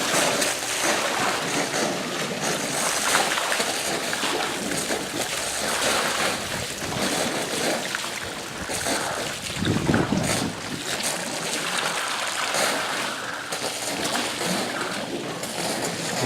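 Pool pump pushing water out through 2-inch PVC pipe during a pool opening, a steady rushing and gurgling wash of water that holds at an even level throughout, with a brief louder surge partway through.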